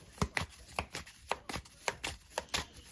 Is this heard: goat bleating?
no